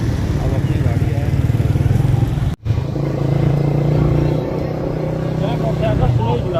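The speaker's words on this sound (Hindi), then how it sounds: "मैं मोटरसाइकिल आस्ते ही चलाता हूँ" A motorcycle riding slowly through a busy bazaar in Rawalpindi, its steady engine putter close and continuous with a brief cut partway, someone talking over it.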